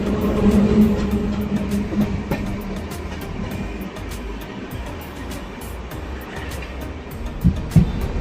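Passenger express train 17309, bound for Vasco da Gama, rolling steadily into Birur junction, with a continuous low rumble and rattle of the carriages and a few sharper knocks near the end, heard from inside the coach.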